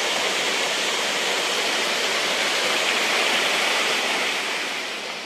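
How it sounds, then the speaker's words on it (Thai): A rainy-season waterfall near Doi Suthep in the mountains of Chiang Mai pours with a steady, close, full rushing roar that holds evenly and eases slightly at the end. "มันเป็นน้ำตก"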